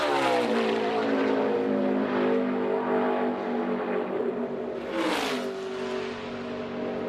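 A NASCAR Xfinity race car comes off turn 4 toward the line during practice at Charlotte, its engine a loud sustained roar with shifting pitch, building then sweeping past near the end before fading slightly.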